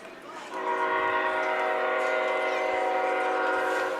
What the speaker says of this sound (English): Still waiting for the sign as you hear the train coming through town.